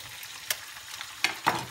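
Bacon sizzles in a frying pan for spaghetti carbonara, a soft steady fry broken by a few sharp crackles and stirring scrapes, close and without talk.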